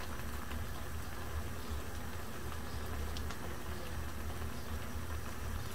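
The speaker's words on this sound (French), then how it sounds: "Je porte à ébullition." A saucepan of water with a bunch of mint is brought to the boil, giving a steady, dense bubbling roar that stays at an even level throughout, with no voices over it.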